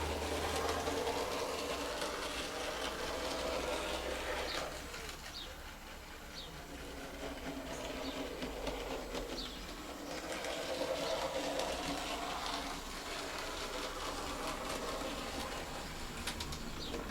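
A Graham Farish Jinty 0-6-0 N gauge model tank engine running slowly around a layout, giving a faint, steady mechanical whirr and light rail clatter that swells and fades as it circles.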